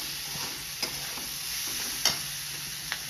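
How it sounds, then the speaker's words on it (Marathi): A vegetable with sesame seeds being stir-fried in a pan gives a steady, soft sizzle, with a few sharp spatula scrapes and clicks standing out now and then. "थोडंसं तीळ टाकून आता ही भाजी आपण परतवून घेतली"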